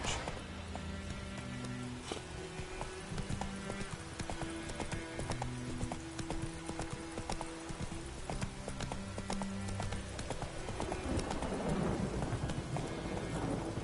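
Roach, Geralt's horse in The Witcher game, clip-clopping at a steady walking rhythm, hoofbeats close and clear over a bed of rain and rolling thunder, with tonal music in the background.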